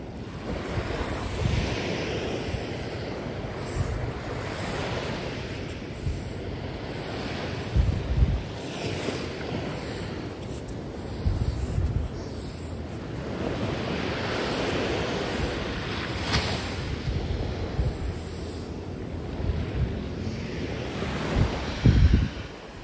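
Ocean waves washing onto a beach at Guarapari, a steady rolling surf roar with surges and wind buffeting the microphone, continuous and fairly loud with no talking.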